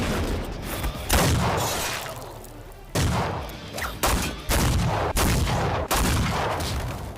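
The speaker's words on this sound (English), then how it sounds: "Satō takes on an elite Japanese police unit, only aided by his trusty shotgun and his friends half a mile away with a sniper rifle." Shotgun blasts and sniper rifle shots ring out in an anime action battle against an elite Japanese police unit, a loud series of sharp booming reports with heavy echoing tails following one another every second or so.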